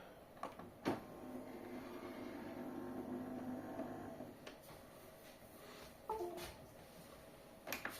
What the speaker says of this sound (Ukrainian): Виключаємо принтер.